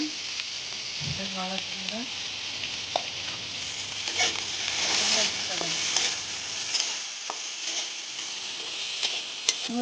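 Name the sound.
potatoes frying in oil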